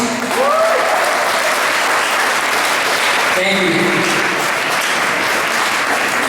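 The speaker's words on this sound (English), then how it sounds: "Can we give another big round of applause to Haner Sori, please?" An audience at a Korean Resource Center anniversary fundraiser gives a big round of applause for the Haner Sori student team from USC, steady dense clapping throughout, with a voice briefly speaking over it.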